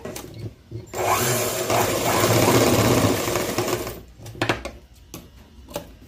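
Sewing machine stitching a fabric pocket, its motor running steadily for about three seconds, then short stop-start bursts of stitching close by, with no voices.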